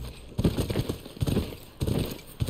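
A horse walks in The Last of Us Part 2, its hooves making a close, uneven clip-clop across a few steps with no speech.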